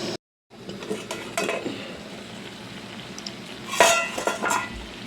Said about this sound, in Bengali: ঢাকাটা খুলে একটু নেড়ে ছেড়ে দিই